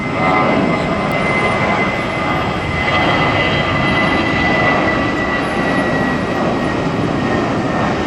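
Airplanes at Tampa International Airport, a loud steady jet engine roar with broad rumble and hiss continuing throughout without talk.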